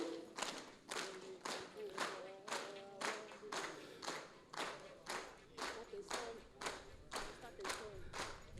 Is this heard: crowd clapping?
yes